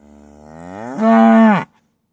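A single cow moos once in a long, rising call that swells to a loud, harmonic bellow and then cuts off abruptly. It is near and alone, with no talk.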